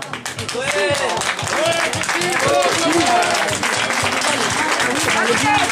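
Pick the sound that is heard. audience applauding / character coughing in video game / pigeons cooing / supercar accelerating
audience applauding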